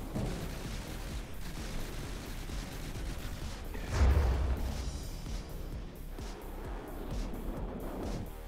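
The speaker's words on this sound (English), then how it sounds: "Some of the missiles are getting shot down, but not enough." Missiles launching and being shot down in a video game battle: a dense, continuous rumble of game gunfire and explosions, with a heavier boom around the middle.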